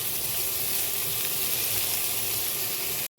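Papaya frying in a pan, an even, steady sizzling hiss close by, unbroken until it cuts off abruptly at the end.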